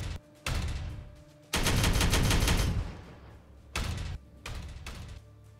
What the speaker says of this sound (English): And open fire.